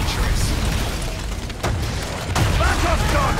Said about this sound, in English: Ooh, fire breath!